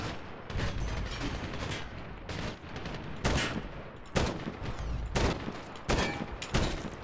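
Rapid bursts of gunfire in the video game Medal of Honor, loud repeated shots in clusters separated by short gaps, with sharp individual cracks standing out near the end.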